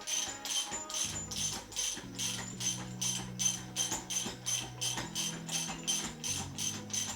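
A hand ratchet clicks in a steady, rapid rhythm as it turns over the engine by hand in a Nissan 240SX, with no talk over it.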